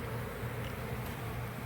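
Honeybees hum continuously during a hive removal in Lakeland, Florida, a dense, steady low buzz from many insects close by, with no one speaking.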